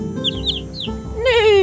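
A sheep bleating sound effect from a children's farm-animal story audiobook, a wavering nasal bleat rising clearly at the end after a few brief chirpy effects.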